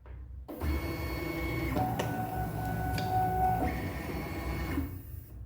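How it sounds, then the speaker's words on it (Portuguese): An I-CRAFT cutting machine loads its cutting mat with a steady mechanical motor whir and feed rattle lasting several seconds, with a couple of brief clicks midway, close and fairly loud, with no talking. "nós vamos carregar a base na máquina"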